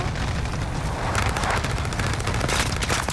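Gunfire crackles in Call of Duty: Modern Warfare in a dense run of rapid shots and booming reports. The burst is loud and close and carries on for about three seconds.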